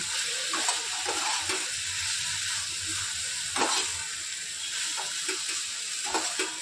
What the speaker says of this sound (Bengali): সস আর মশলার সঙ্গে জাস্ট এটা মিশিয়ে দেবো ভালো করে